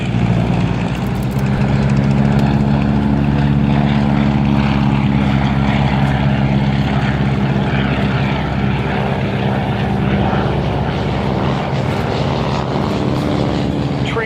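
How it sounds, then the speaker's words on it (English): A Boeing Stearman Cadet biplane, a 1940s primary trainer, drones steadily with a loud, throbbing radial engine and propeller roar that holds close and continuous throughout. "The Boeing Stearman Cadet."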